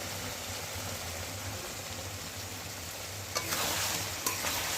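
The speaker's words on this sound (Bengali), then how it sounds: "সামান্য জল দিয়ে কিন্তু আমি কষাচ্ছি এটাকে" Cauliflower and egg curry masala sizzling and being stirred in a pan with a little water, a continuous soft frying hiss with brief louder scraping of the spoon near the end.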